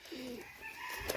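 A Pakistani Jaldar Kachuri pigeon gives one brief, low coo at the start, then steady ambient noise follows without any talking.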